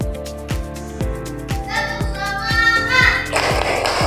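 Schoolchildren in a classroom clap in a steady, loud rhythm led by the class leader, about two claps per second with a brief flurry near the end, voices faint beneath.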